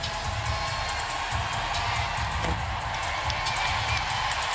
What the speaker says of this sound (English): This crowd making some noise, going to get on their feet.